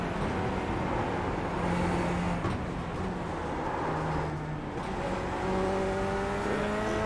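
Chevrolet Corvette C8 race car in the iRacing video game, engine droning continuously with shifting pitch as it revs through gears, steady and moderately loud with no talk.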